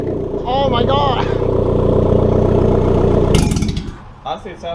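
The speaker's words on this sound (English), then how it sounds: "Honestly, it sounds like basically the same idling." A 2016/2017 Chevy Cruze with a big turbo upgrade idles close by with a steady, even hum, while people talk over it and the engine drops away near the end.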